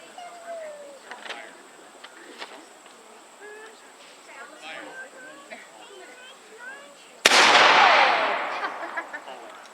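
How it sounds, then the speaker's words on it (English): Birds and insects chirp quietly outdoors, then a single loud British cannon blast at a War of 1812 reenactment booms suddenly and rumbles away. "Looks like the British cannon is about ready to fire."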